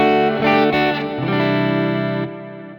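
Clean electric guitar through an amp model on a Quad Cortex with no compressor: a few strummed chords ringing out with lush sustain, alone and fairly loud.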